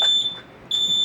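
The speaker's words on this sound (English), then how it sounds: "this fire alarm is going off" A smoke detector fire alarm gives two loud piercing high-pitched beeps separated by a short pause, close by with no talk.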